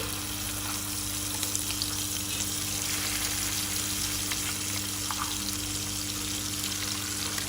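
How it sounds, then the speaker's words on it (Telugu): Ground masala paste fries in a hot pan with cumin, bay leaf, cinnamon and cloves, giving a steady, close sizzle with faint stirring scrapes and no talk. "జీలకర్ర వేగాక మనం గ్రైండ్ చేసి పెట్టుకున్న మసాలా పేస్ట్ వేసుకోవాలి"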